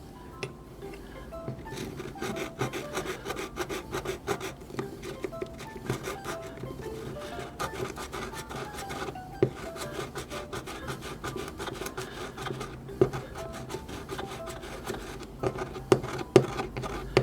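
Repeated scraping and rasping strokes of a small hand eye sizer filing the inside of a vinyl doll head's eye hole, steady and close, with occasional sharper ticks.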